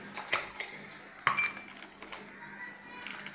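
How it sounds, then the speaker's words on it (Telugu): Two ice cubes dropped into a glass of cold dalgona coffee land with sharp, bright clinks about a second apart. Fainter glassy ticks and rattles follow in a quiet kitchen. "దలంగా కూల్ కాఫీ ఇందులోని ఐస్ క్యూబ్స్ వేసుకొని"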